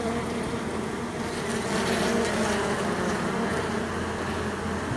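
Honey bees hum and buzz around an opened hive during an inspection, a dense continuous drone close to the listener with swelling clusters of higher buzzing, no voices.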